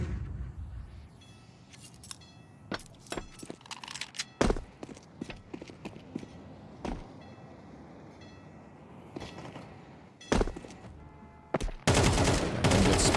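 Rapid bursts of gunfire in a Counter-Strike-style esports match, sharp cracks and rattling volleys scattered irregularly, ending in a loud sustained barrage, alongside game background noise.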